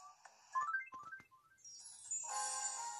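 A Tomodachi Life phone call plays a bright, tinkling ringtone jingle, a short rising run of chiming notes that opens into a sustained shimmering chord, clear and unaccompanied.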